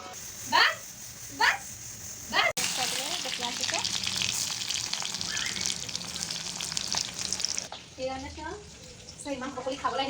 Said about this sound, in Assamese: 1 মিনিট অলপ লৰাই দিওঁ।